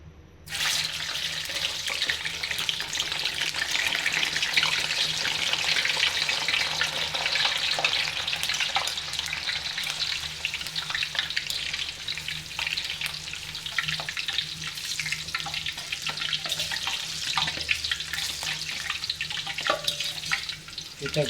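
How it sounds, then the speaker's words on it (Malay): Vegetables fry in a pan in a home kitchen, giving a loud, steady, even sizzle and hiss that runs unbroken throughout, with no talking. "kita goreng sayur ni sekejap ya."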